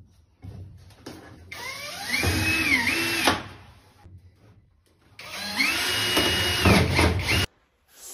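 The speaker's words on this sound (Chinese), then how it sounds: "对着它那个螺丝孔直接拧在龙骨上就可以了" A power drill drives screws through a five-in-one bathroom heater into a ceiling joist: two loud, close whining bursts with rising and falling motor pitch, separated by a short pause, with no talking.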